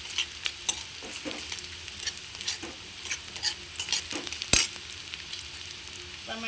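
Chopped tomatoes sauté in a pan for chivda made from leftover chapati, with a soft, steady sizzle broken by frequent spoon scrapes and one sharp clack; close and fairly quiet, with no talking.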